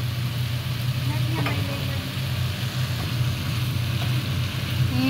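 Mushrooms and broccoli with soy sauce being stirred in a pan, a steady low sizzle with soft scraping stirs over a constant background hum, a few faint clinks.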